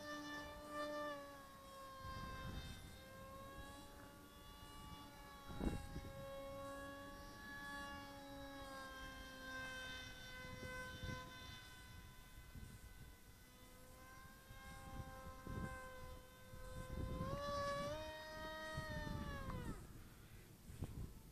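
A model MiG-29 jet on a 3S battery holds a high, steady whine for the whole stretch, rising and falling slightly in pitch as it flies, with a brief surge near the end.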